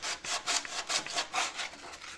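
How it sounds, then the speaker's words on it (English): Rapid back-and-forth hand sanding of rust on a 1965 Chevrolet Corvair body panel: about nine close, steady rasping strokes in quick rhythm with no talk. "Sand that stuff right off."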